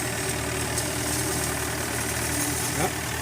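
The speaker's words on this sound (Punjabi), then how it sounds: "ਚਾਰ ਟਰੈਕਟਰ ਇੱਕ ਟਰੈਕਟਰ ਮਗਰੋਂ ਧੱਕਾ ਲਾਉਂਦਾ ਦੋ ਮੂਹਰੋਂ ਲਾਉਂਦੇ ਆ" Tractor engines labour at a steady drone, pulling a trolley stuck in a muddy paddy field, with a low rumble and vibration running throughout and distant voices faint in the background.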